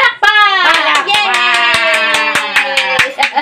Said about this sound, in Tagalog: Palakpak! Palakpak!